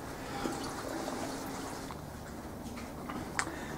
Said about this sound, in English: there's the rest of the antifreeze coming out of the cylinder head and running in the bilge